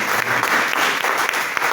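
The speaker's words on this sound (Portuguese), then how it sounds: "Vamos dar uma salva de palmas." A church congregation bursts into dense, steady applause during a worship service, many hands clapping together at close range and filling the room without pause.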